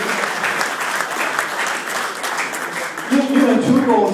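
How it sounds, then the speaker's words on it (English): Sustained audience applause at a GAA Hall of Fame evening, a steady wash of many hands clapping at close range, with a voice rising over it near the end. "A big round of applause for David Carty"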